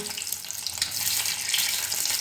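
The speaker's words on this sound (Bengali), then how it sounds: "ফ্রাই প্যানে তেল দিয়েছি সর্ষে তেলেই রান্নাটা হবে তাতে ডিমগুলো সমস্ত ভাজা হচ্ছে" Eggs fry in mustard oil in a frying pan, giving a close, steady hiss and sizzle that runs continuously without pause.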